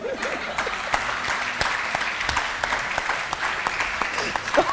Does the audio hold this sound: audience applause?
yes